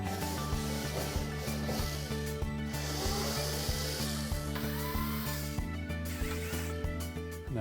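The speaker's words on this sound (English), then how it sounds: "Now next we'll remove these screws across the top." Screws being taken out across the top of a clothes dryer with a tool, a scraping, rhythmic grinding repeated over a steady mechanical hum, close and continuous.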